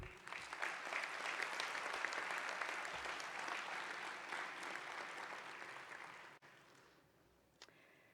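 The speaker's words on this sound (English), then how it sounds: "let's give another round of applause to those of them who are present" An audience at a university graduation ceremony applauds with sustained, dense clapping that fills the hall, then fades and stops near the end.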